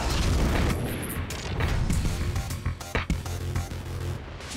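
Fireworks set off inside a bedroom, a burst of loud booms and crackling bangs at close range, rapid and irregular, with smashing debris and no talk.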